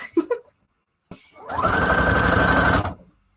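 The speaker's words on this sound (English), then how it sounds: "I'm going to do a straight stitch on that" A sewing machine runs a straight stitch through fabric scraps in one steady, loud burst of about a second and a half, after a few brief handling knocks and a short whir.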